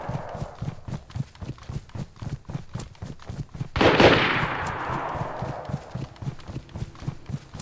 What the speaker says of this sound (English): There's a guy shooting at the coast.